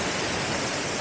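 Natural summer waterfall near Gapsa temple on Gyeryongsan, a steady loud broadband rush of falling water with no pauses, close by and alone.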